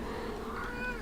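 A cat lets out a single loud, close meow right beside a microphone during a live charity stream, rising slightly in pitch near its end.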